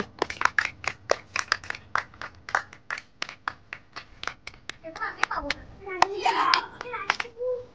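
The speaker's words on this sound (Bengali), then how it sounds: "সবাই হাততালি একটু" Children and onlookers at a vegetable-matching game clap in a quick, rhythmic burst of close hand claps, which fade into a murmur of excited children's voices.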